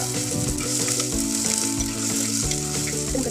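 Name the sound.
green chilies frying with onions in a pan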